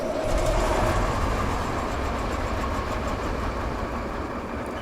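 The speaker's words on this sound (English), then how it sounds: "Let's move my truck out of the way." A heavy truck engine in the video game RoadCraft rumbles steadily at low pitch, a constant idling drone with no voices.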